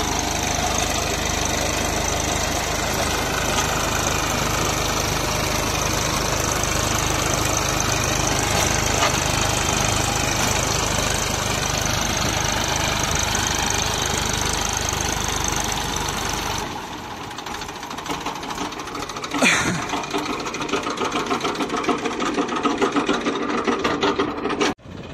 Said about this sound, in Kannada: ಬರೀ 40 HP ಟ್ರ್ಯಾಕ್ಟರ್ಗೆ ನಾವು 6 feet ರೋಟವೇಟರ್ ಹಾಕ್ಬಿಟ್ಟು ಹೊಡಿತಾ ಇದ್ದೀವಿ